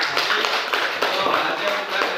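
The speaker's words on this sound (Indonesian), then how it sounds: "Bagus, kita kasih tepuk tangan." A classroom of students applauds together, a steady wash of clapping held at an even level through the whole stretch, with voices mixed into the noise.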